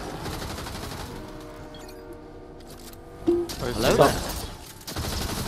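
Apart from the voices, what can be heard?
gunfire in the video game Fortnite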